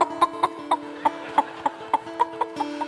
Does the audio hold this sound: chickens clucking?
yes